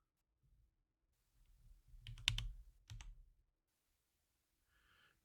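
A few quick key clicks on a computer keyboard in a quiet room, a short burst of taps in the middle with a faint click near the end.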